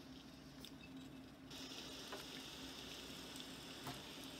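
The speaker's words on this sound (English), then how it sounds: "Oh, it's raining." Rain in the Morrowind video game falls as a soft, steady patter with a hissing wash, faint and continuous, thickening slightly partway through.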